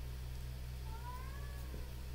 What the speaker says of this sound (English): I don't know if you can hear my cat